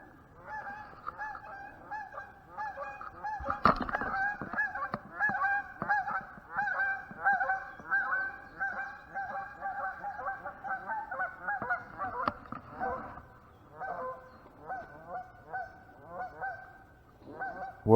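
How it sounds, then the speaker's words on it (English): A flock of geese honks near a river at evening, their loud, overlapping calls repeating almost nonstop, with bursts of harsher honking among the steady chorus. "Noisy geese aggravate me"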